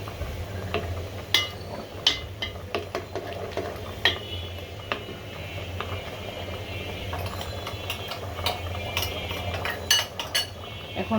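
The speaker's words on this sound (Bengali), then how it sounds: "সাথে সাথে নেড়ে চেড়ে দিতে হবে, না তা না হলে একদম দলা বেঁধে যাবে।" A nut, milk and rice flour mixture is stirred into a cow trotter curry in a pot, with a spoon clinking and scraping at intervals over a low steady cooking hiss. The strokes are close and moderately loud.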